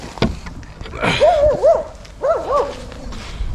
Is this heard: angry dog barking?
yes